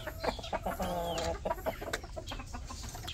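Rhode Island Red chickens cluck in a small backyard flock, a few short clucks and one drawn-out call sounding fairly close over a low, busy background.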